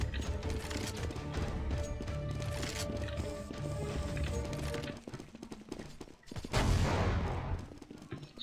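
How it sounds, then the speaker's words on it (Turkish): Dense, continuous gunfire and a bomb explosion in a video game, with rapid overlapping shots filling the clip and a louder burst near the end. "Soldan geldi bomba galiba."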